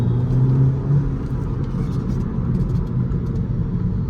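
A Skoda Octavia 1.8 TSI accelerating hard, heard from inside as a loud deep engine drone and road rumble that swells early and then holds a strong steady roar.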